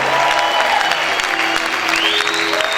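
A church congregation claps loudly and steadily during worship, with shouts and raised voices mixed into the dense applause throughout.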